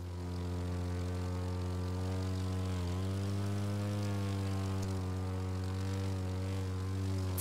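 Propeller airplane engine in the racing video game The Crew 2, a steady loud drone with a strong low hum and stacked harmonics that dip briefly in pitch, continuous throughout with no talk.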